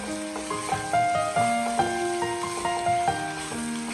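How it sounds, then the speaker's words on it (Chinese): Duck stir-fried with spices and a spoonful of chili bean paste in a wok, a steady close sizzle with scraping spatula strokes over a soft background tone, no talking. "再次用锅铲煸炒。"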